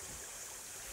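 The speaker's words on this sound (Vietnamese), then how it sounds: "Đây lại là một cái suối." A forest stream in Kagoshima flowing with a steady, hissing rush of water, continuous and fairly close, with no voices.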